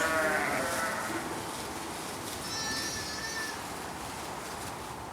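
Sheep and lambs bleat amid a dense, noisy backdrop, with a wavering cry early on and thinner higher bleats midway, all fairly faint and partly buried in broadband hiss.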